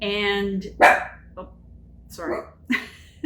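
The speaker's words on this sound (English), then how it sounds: "Because that was my dog." A pet dog barks several times indoors, a few sharp close barks spaced apart, with a person talking between them.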